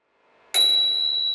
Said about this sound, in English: That's a cheap rip-off of the Spur Cycles bell.